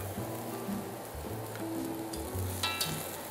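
Tofu products, including tofu skin and tofu sausage, drop into a hot braising pot. A steady, moderately loud sizzle and bubbling runs throughout, with a few soft clinks near the end.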